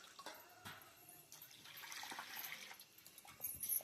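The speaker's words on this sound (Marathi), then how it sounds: "आता आपल्याला तांदूळ आणून धुवून टाकायचे." Rice being washed by hand in water, faint close sloshing and trickling with small splashes that grow a little louder toward the end.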